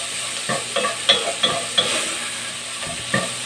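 Bacon and onion fry in a pan with a soft, steady sizzle, while a utensil stirs and scrapes against the pan in a string of close, regular strokes.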